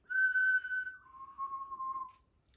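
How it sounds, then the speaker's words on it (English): A single whistled tone, made while breathing in, holds high and steady, then slides down to a lower pitch and wavers before fading out. It sounds clear and close, with no talking. "changing the pitch of your whistle when you are inhaling"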